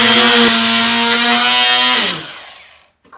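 An oscillating power tool cuts into a laminate stair nose, a loud, close, steady high-pitched buzz that runs for about two seconds, then winds down and stops.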